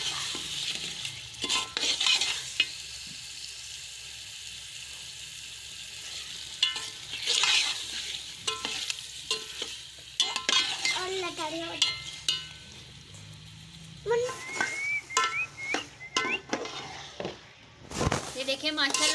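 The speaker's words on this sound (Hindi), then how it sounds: "अब इसमें हम चिकन जो है हमारे पास वो डाल देंगे। हम इसको अच्छी तरह से भून लेंगे।" Chicken being stirred and fried in a pan for a homemade chicken salan, with scraping, clinking and sizzling in bursts, while a voice talks over it throughout.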